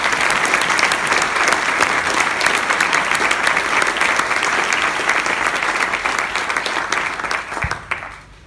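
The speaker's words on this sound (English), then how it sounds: "Let's have a round of applause" Audience at Birdfair applauds loudly in a thick, sustained round of clapping that keeps steady for about seven seconds before quickly dying away.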